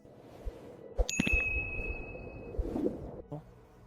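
A notification bell ding rings out once with a bright, lingering metallic tone, framed by a soft whoosh and light clatter.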